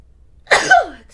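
A single sharp sneeze burst, close and fairly loud, with a brief breathy tail trailing off afterward.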